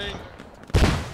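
In the combat game Squad, a sudden heavy blast of gunfire erupts partway through, after a moment of quieter background battle noise.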